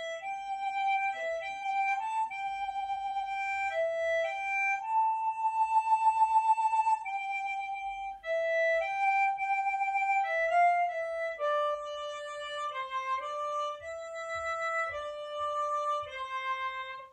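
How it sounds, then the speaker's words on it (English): Harmonica playing the tune Michael Row the Boat Ashore as a single-note melody, clear sustained reedy notes moving step by step, close and alone without any talking. "the second tune I'd like to introduce you to is Michael Row the Boat Ashore, okay, which sounds like this."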